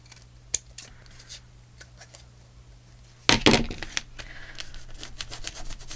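Scissors trimming a paper junk journal tag: a burst of close, crisp cutting and paper rustle near the middle, then lighter handling noises; no one talks.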